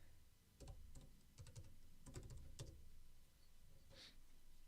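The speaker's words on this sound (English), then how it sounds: "So I'm just typing some stuff out." Quiet bursts of clicking keystrokes on a computer keyboard, close and soft, in short irregular runs with pauses between them.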